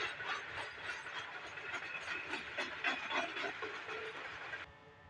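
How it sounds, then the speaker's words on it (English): A train in the Gotthard Base Tunnel rumbles and hisses steadily, faint and enclosed, with metallic rattling and clanking throughout before cutting off abruptly. "And that was a train I heard."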